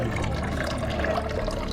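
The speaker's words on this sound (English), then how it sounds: "Found a little water source." Water trickling from a small inlet at the Blue Lagoon geothermal spa in Iceland; a steady, close bubbling flow with continuous splashing, fairly loud and without pause, and no talk heard.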